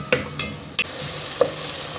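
Onions going golden in a home kitchen pan, a soft steady sizzle with a few sharp stirring scrapes and clinks near the start and middle, no voices.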